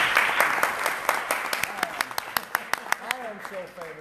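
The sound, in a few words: audience applause for speaker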